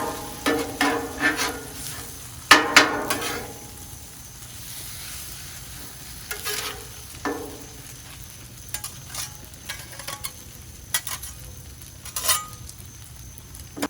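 Scallops and noodles fry on a Blackstone griddle with a constant low sizzle, broken by scraping and tapping of a spatula on the metal surface, louder clanks early on and scattered clicks later.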